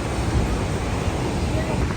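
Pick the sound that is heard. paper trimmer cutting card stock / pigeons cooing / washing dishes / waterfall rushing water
waterfall rushing water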